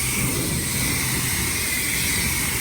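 A straight-piped 2014 Jeep Grand Cherokee Overland with a Hemi engine produces a loud, steady, raspy exhaust drone, held at a constant level throughout with no distinct rev peaks.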